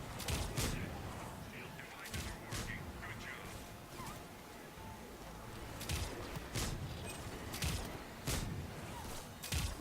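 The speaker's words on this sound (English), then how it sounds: "as I fire the concussion shots off" Concussive shots fired by a human soldier in Mass Effect 3 multiplayer, landing as a steady rhythm of sharp bursts over a busy backdrop of game combat noise and impacts.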